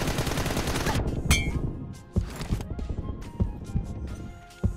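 Pistol fire in a mobile shooter video game: a dense burst of rapid gunshots at the start, then scattered single shots and sharp impacts with brief gaps, loud and close.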